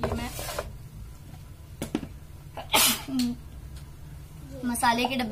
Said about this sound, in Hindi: बंद कर रही हूँ ना, तो स्मेल से छींक आ गई।